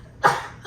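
One short, sharp sneeze bursts out nearby, brief and fairly loud, trailing off quickly.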